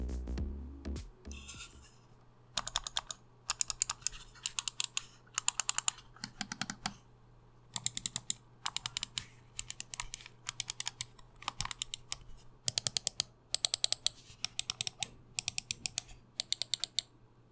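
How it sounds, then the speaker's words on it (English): Mouse buttons on several mice, including a $15 Velocifire EVM02 wireless vertical mouse, clicked in quick bursts of sharp, crisp clicks separated by short pauses, close and alone over a faint steady hum. "Here's a sound comparison to a few mice I have on hand."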